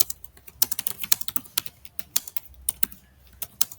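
Rapid typing on a computer keyboard, a steady stream of crisp close key clicks in uneven bursts with no voice over them.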